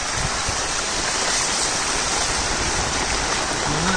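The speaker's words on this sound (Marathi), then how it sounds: "काय एवढा पाऊस पडतोय?" Heavy monsoon rain pours with rushing, flowing water near a hillside bridge, a loud, steady, dense roar without a break and no voices.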